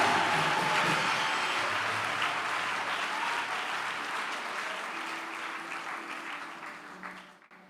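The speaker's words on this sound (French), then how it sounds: "Donne-moi une acclamation qui monte au ciel." Congregation at a church service breaking into loud, sustained applause and acclamation, a dense wash of clapping and cheering that slowly fades over several seconds before cutting off.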